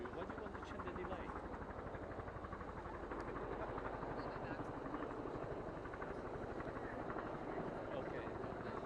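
Press helicopters flying overhead at a formal White House welcome, a steady loud rotor chop with dense rhythmic thumping that runs continuously, voices faintly under it.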